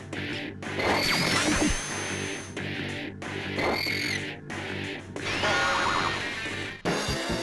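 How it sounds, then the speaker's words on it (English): Robotnik gives hurt cries in the Sonic Chronicles video game, a run of sharp, whooshing and crashing bursts repeating over a steady game background, with no talk. "That's the sound of a hurt Robotnik."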